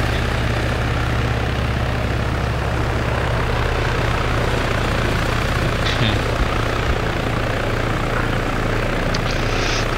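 Steady, loud helicopter rotor and engine roar in the ARMA 3 military game, a dense continuous drone close by for the whole stretch, with a few faint thuds underneath.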